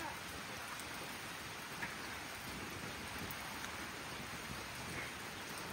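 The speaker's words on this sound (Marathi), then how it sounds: "बर बर पाऊस लागतोय का बाहेर गेल्यावर" Steady rain falling outside, a continuous soft hiss of drops throughout, faint and even, with no clear voices over it.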